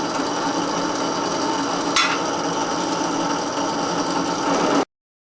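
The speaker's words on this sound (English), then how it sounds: "You're making that wheel a little truer each pass, and you're also going to make that wheel smoother and the finish better also" Sandpaper rubs steadily across a plastic Pinewood Derby car wheel, a continuous close rasping scrape with one brief sharper knock midway, no talking.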